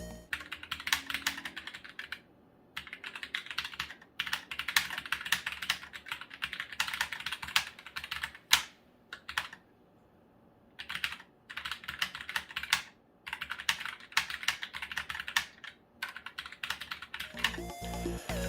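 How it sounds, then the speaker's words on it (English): Typing on a Roccat Vulcan TKL Pro mechanical keyboard: bursts of close, fairly loud key clatter with brief pauses between runs of keystrokes, and no talking. "I did a little quick showing of me typing on it so you see how loud it is"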